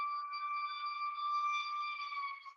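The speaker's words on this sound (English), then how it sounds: "Oh, that's a siren." A siren wails as a steady, sustained tone with strong harmonics, holding at an even level for a couple of seconds before cutting off abruptly.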